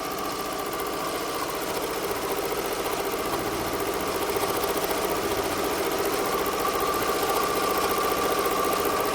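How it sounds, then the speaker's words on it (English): Ricoma EM-1010 embroidery machine stitching a faux patch, a steady, fast mechanical chatter with a rhythmic needle knock, close and continuous with no talk. "I leave the ASMR just a little bit because I love the way the embroidery machine sounds"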